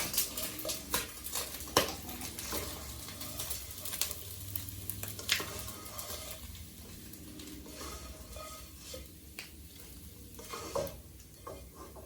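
Paneer frying in a pan, a steady soft sizzle with intermittent scraping and stirring clicks of a utensil against the pan, no talking.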